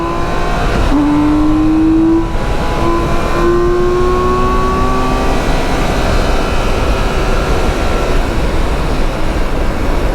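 A BMW K1600 GTL motorcycle accelerates hard in third gear on an open road, its engine note climbing steadily in pitch, loud and close, with heavy wind rush throughout.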